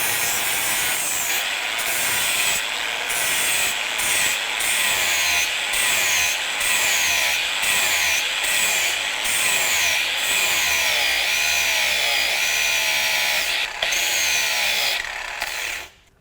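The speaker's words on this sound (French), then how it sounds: "on va attaquer donc la plaquette avec la meuleuse" An angle grinder cuts steadily into the link plate of a motorcycle chain, a loud, close, continuous high-pitched metallic whine with rhythmic dips as the disc bites. It runs for about sixteen seconds and then stops abruptly.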